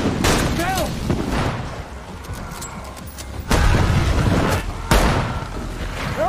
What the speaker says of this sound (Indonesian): Bill sempat terkena tembakan dan Frank dengan cepat menyelamatkannya.